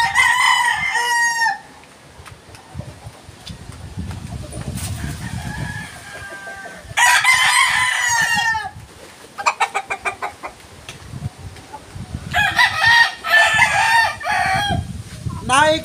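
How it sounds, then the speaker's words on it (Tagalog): A rooster crows several times in loud, close bursts, with softer clucking and low farmyard rustling between the calls, and a brief stretch of near quiet after the first crow. "Boss Leo, ito na yung manok mo."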